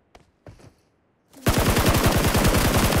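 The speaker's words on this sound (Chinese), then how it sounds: "数到二就开枪了" Automatic rifle fire in the PUBG Mobile video game: two faint thuds, then a loud, rapid, sustained burst of gunshots lasting over a second and a half.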